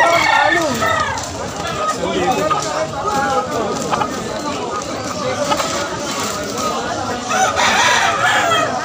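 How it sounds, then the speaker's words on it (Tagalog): Chickens and roosters at a pet market cluck and crow close by in a busy, overlapping chorus, with people talking among them throughout. "Ayan, mga manok, mga kalapatids."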